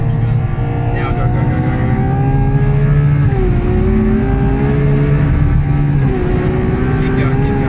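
A 2018 Ferrari 488 Challenge race car on a New Zealand track holds a loud, steady engine drone with rising pitch as it accelerates, shifting gears around the midpoint and again later, with a voice coaching over it.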